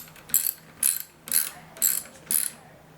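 A hand ratchet tightens a nut onto a lock washer with an 11mm socket, giving five evenly spaced bursts of crisp clicking, close and fairly quiet, with no talking.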